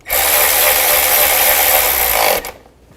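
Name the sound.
tightening bolts on a GMC Yukon fuel injector bracket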